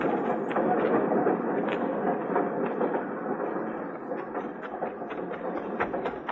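A steam-era train rumbles steadily with rhythmic clatter and hiss at a frontier station, a continuous mid-level roar with faint repeated clicks and no voices.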